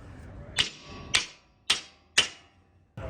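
Hammer striking while a wooden garden bed is assembled, four sharp evenly spaced blows about half a second apart, close and crisp, with a fifth hit starting at the end.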